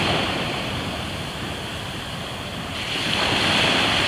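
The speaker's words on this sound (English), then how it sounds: "The ocean looks really, really calm this morning." Calm ocean surf rolls onto a beach at sunrise, a broad continuous wash of water with some wind noise, swelling slightly louder near the end, with no voices.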